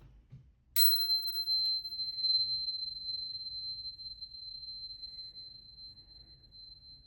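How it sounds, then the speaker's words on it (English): A tuning fork is struck once, a sharp tap followed by a single clear high tone. It rings on steadily and fades only slowly, close and alone over a faint low background hum. "I'll clear the energy with a couple of rings of the tuning fork"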